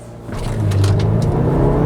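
An Audi Q5 S line launching hard under launch control, its engine note rising quickly from a lower growl into a loud, sustained roar during the acceleration, heard from close by with no talk.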